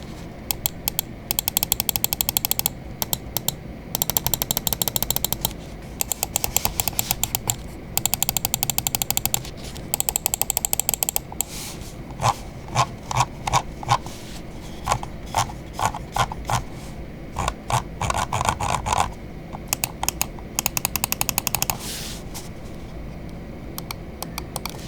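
A Vaxee E1 gaming mouse has its buttons clicked over and over, close and crisp. Bursts of fast clicking alternate with spaced single clicks and brief pauses.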